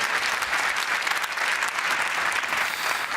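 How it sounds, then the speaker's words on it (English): A large audience at a Ford event in Cologne applauds steadily and loudly, with dense, continuous clapping for the full length and no letup. "Big round of applause, please, for Raj Nair,"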